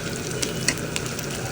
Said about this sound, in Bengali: এইদিকে হচ্ছে আমি পুরি শুটকি আর চিংড়ি মাছ একসাথে ভাজা ভাজা করে নিয়েছি